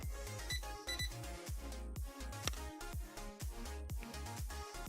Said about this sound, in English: Most of the sound is beeping